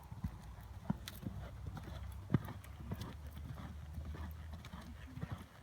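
Horse hooves clip-clopping steadily at a working gait during a long-rein schooling session in German reins, a low continuous rumble of footfalls with a few sharper thuds, moderately close, no talk over it.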